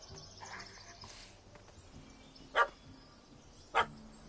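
A dog barks in The Witcher 3: Hearts of Stone, two sharp single barks about a second apart, moderately loud over quiet game ambience with soft music.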